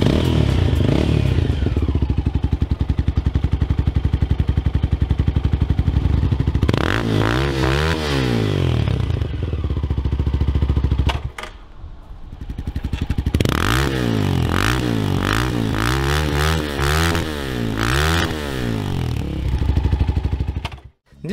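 An Irbis Z1 250 motorcycle, a 250 cc Chinese-built Shineray bike, revs and accelerates through rising and falling gear changes. The engine is loud and close, with a brief pause and some clatter between runs.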